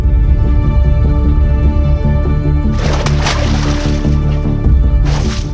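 A person jumps into waist-deep water in a crime drama scene, giving a sudden splash and slosh midway, then a second brief splash near the end, heard over a steady bed of background music.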